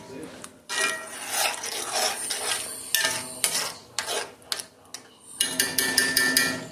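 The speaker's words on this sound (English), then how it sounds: "So we'll just mix that in there." A spoon mixes garlic into Italian sausage sauce in a pot, producing repeated clanking scrapes and knocks against the metal in irregular bursts, close and fairly loud, with gaps of quieter bubbling between strokes.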